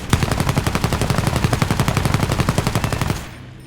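Aircraft guns on a J20 fighter firing in War Thunder air arcade, a fast, steady, loud stream of shots lasting about three seconds before cutting off.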